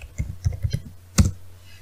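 Password typed on a computer keyboard, a short run of soft close key clicks in an uneven rhythm, ending with one firmer keystroke like a press of Enter.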